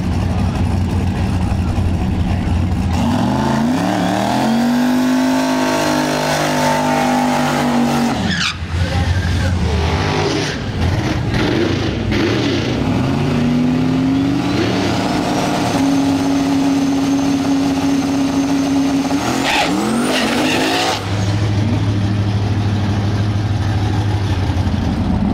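Drag-racing car on a bumpy track, its engine roaring loudly through two launches with tires spinning and squealing, the revs rising and falling in long harmonic sweeps, with a brief gap between runs and a sustained drone at the end.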